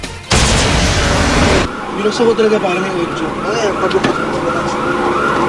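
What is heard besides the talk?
fire truck siren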